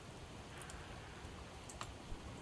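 Rain falls in the zombie survival video game Project Zomboid, a quiet, even hiss with faint drop ticks and no talk.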